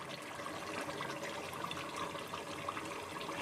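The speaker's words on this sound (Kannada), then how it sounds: "ಎರಡು ಬಟ್ಲು ನೀರು ಹಾಕ್ಬೋದು" Water is poured into a pot of biryani on the stove, a steady, close splashing pour with no talking.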